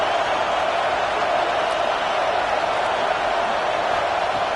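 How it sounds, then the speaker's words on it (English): A packed stadium crowd at a college football game, Georgia against Notre Dame, roars in a steady, dense wash of cheering that stays loud and unbroken throughout. "this crowd is fired up. Listen to this noise here."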